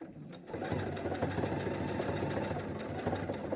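A sewing machine stitches binding onto a quilt with a steady, fast, whirring hum that starts after a brief pause and runs continuously, fairly quiet and close.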